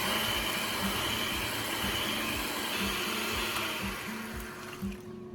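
Electric mixer whipping heavy cream toward butter, a constant loud whirring drone with a rhythmic churning pulse, easing off slightly near the end, no voices.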